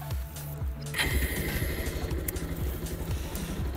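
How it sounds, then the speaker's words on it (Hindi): Bajaj Pulsar 220 motorcycle engine cranking and firing up, then settling into a close, rapid, uneven idle putter. "बाइक स्टार्ट करनी पड़ेगी तो थोड़ा उसका भी साउंड आएगा"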